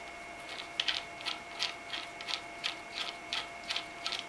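Rhythmic ratcheting clicks from a hand tool tightening screws while mounting a be quiet! Dark Rock Pro 2 CPU cooler, a steady run of small ticks, close and quiet, over a faint electrical hum.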